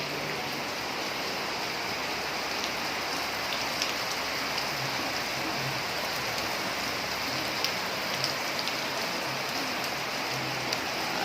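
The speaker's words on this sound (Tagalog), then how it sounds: "Umulan-ulan guys. Umulan." Rain falls steadily and evenly on a surface, a dense continuous patter with no breaks, moderately loud and close.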